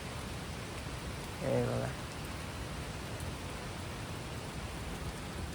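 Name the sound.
rain falling in a hill village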